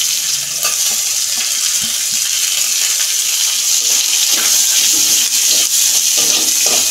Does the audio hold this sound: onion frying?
yes